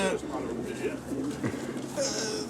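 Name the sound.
pigeons cooing in loft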